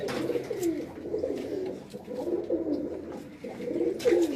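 Rooftop pigeons coo in repeated rolling phrases, fairly close and clear, several birds overlapping in a continuous low burbling with no talk.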